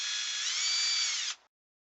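A power drill drives screws into a shed door hinge, with one steady high whine that runs for about a second and a half before cutting off, close and loud and with no talk.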